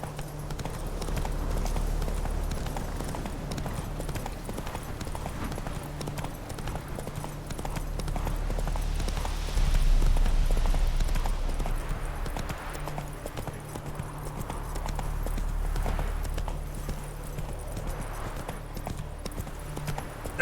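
In the video game Witcher 3, a horse's hooves beat a steady, rhythmic clip-clop at a run, close and continuous for the whole stretch, with no speech over it.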